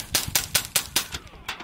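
Ten-round string from a pistol with a 45-caliber suppressor and supersonic ammunition, a steady run of sharp, evenly spaced cracks, about five in quick succession, moderately loud and close.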